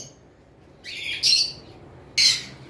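An albino lutino Fischer's lovebird gives two sharp, shrill squawking calls about a second apart, close and loud against a quiet background hum.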